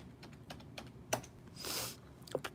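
Typing on a computer keyboard: scattered, light keystroke clicks come in irregular bursts, with a brief hissy swell midway, close and fairly quiet over low room noise.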